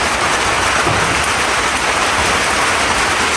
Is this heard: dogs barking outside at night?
no